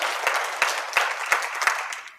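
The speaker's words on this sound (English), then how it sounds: "cheer if you're committed. Like, clap if you're committed" An audience at a talk on small-business and personal-brand marketing claps steadily, with several sharp bursts of applause standing out above a continuous crowd wash.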